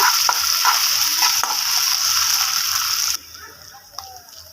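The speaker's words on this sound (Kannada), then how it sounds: "ಈರುಳ್ಳಿ ಫ್ರೈ ಆದ ನಂತರ ನಾವು ಶುಂಠಿ ಬೆಳ್ಳುಳ್ಳಿ ಪೇಸ್ಟ್ನ ಆ್ಯಡ್ ಮಾಡಿಕೊಂಡು ಮಿಕ್ಸ್ ಮಾಡ್ಕೊಳ್ಳೋಣ" Onions fry in a pan with a loud, close sizzle and stirring scrapes. After about three seconds the sizzle drops sharply and softer clinks follow, matching ginger garlic paste being added and mixed in.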